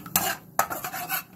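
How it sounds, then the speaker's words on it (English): A utensil scrapes and clinks against a pan while eggs are stirred as they cook, two sharp metallic strikes followed by softer scraping, close and fairly quiet. "I'm stirring up my eggs as they're cooking."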